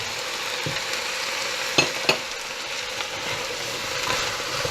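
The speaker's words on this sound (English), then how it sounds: "I like stirring as I go. I'll add my carrots." Carrots and vegetables stirred in a soup pot, a quiet sizzle and bubbling under a couple of sharp spoon knocks against the pot.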